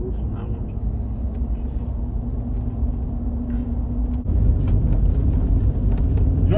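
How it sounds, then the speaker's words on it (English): A car with big tires driving on a dirt road, its steady low engine and road rumble rolling continuously, growing heavier partway through, as someone talks over it. "Oh man, this car, it drives so nice on dirt roads with these big tires."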